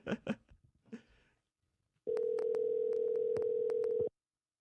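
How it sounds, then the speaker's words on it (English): A telephone line tone sounds as a single steady two-second burst with faint ticks, following a brief stretch of muffled talk and a short silence. "I can't tell you how long it's been since I've heard a busy signal"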